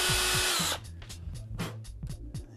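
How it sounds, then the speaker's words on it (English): Power drill making a hole in a kitchen unit to fix a door stop, a loud close whir that stops abruptly, followed by a series of short quick bursts of the motor. "So I'll drill a quick hole for that and fix that"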